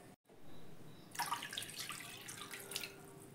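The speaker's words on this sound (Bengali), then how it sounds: "সেই বাটির মাপ ধরেই 2 বাটি জল দিয়ে দেব" Two bowls of water poured into a wok on a gas stove while cooking semolina pitha, a steady splashing, rushing pour starting after a brief pause and continuing loud and close to the end.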